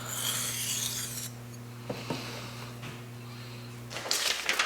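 Steel kitchen knife edge rubbed on a 300-grit whetstone, a gritty scraping rasp in short strokes with a few brief clicks, over a low steady mains-like hum, fairly quiet and close.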